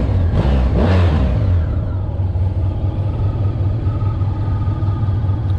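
Honda VFR 1200X motorcycle with a 1200cc V4 engine, loud and close, revving briefly at the start, then settling into a steady deep idle rumble with no talk.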